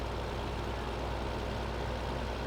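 Tractor engine idling in Farming Simulator 15, a steady low mechanical rumble that holds constant and fairly close throughout, with no talk over it.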